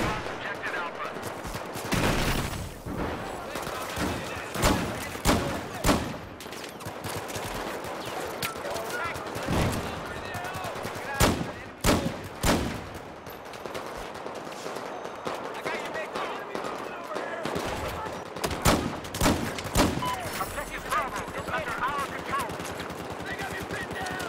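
Gunfire in Battlefield 4 erupts in loud, rapid bursts and single shots from all sides, with occasional heavier blasts and a voice heard now and then.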